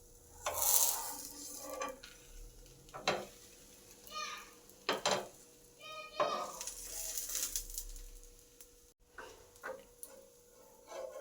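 Potato bread toast cooking on a tawa, a soft steady sizzle with occasional scraping and clinks of a spatula, heard up close with a few brief pauses.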